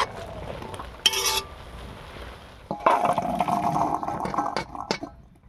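Boiled kabuli chickpeas are poured from a pot into a container, with splashing liquid and clinking of metal cookware in short bursts, close and moderately loud.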